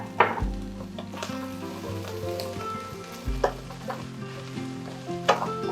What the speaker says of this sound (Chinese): 然后我们可以把碧玉笋的根部也放进来，然后还有一些辣椒也先放进来炒香